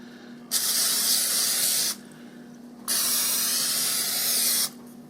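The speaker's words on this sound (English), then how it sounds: "And I'm going to give it a spray." Two bursts of cooking spray hiss steadily onto a pan, the first about a second and a half, the second slightly longer, close by with a faint hum underneath.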